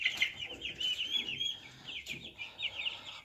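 A flock of Cobb 500 broilers clucks and chirps nonstop at close range, overlapping calls rising and falling in loudness, with no voices.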